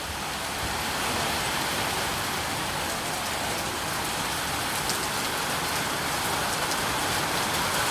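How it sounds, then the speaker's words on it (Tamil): Heavy rain pours steadily in Anthiyur, a dense, loud, unbroken hiss of drops on surfaces lasting throughout, with no voices. "மழை அதிகமாக வருது இப்போ தான்."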